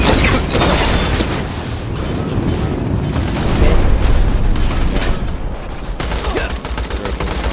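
Grenade explosions and gunfire in Borderlands 2: dense, continuous loud bursts and booms with mechanical clatter, packed close together for several seconds, with no one talking over the din.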